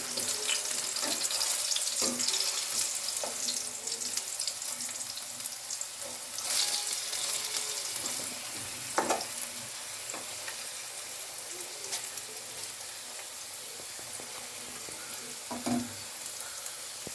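Potatoes fry in hot oil for a mouri potol dish, giving a continuous close hiss of sizzling with scattered small pops and utensil clicks throughout.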